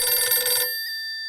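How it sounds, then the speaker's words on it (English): A single short telephone bell ring in the Blacksad video game, a bright metallic trill that cuts off abruptly and leaves a faint ringing tail. "The phone rang twice."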